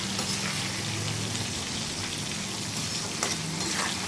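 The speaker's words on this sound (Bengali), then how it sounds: "পেঁয়াজগুলোকে আমি ভেজে নেব।" Onions fry in a pan for a kimchi-style mince achar, a steady close sizzle hissing evenly without pause.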